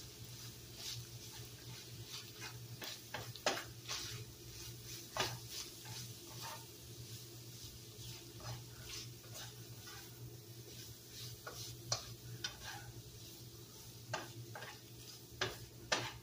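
Seasonings toast in a hot pan for homemade Coney sauce, giving a soft steady sizzle dotted with small crackling pops and ticks, faint and close, with no one talking.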